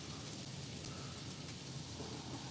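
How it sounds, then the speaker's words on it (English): Rain falls steadily on a hot tent while camping in Michigan in high wind, a dense, even patter that holds at constant volume without any voices. "And rain."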